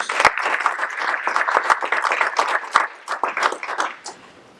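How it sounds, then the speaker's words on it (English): An audience at an energy-industry ESG conversation gives a warm round of applause, a lively spread of overlapping claps with a few sharp near hits, rising and then thinning out toward the end. "she asks you to give her a warm round of applause"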